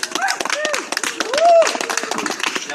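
Audience clapping for a speaker at an evening speakers' corner event in Dublin, scattered and uneven with voices and cheering mixed over it.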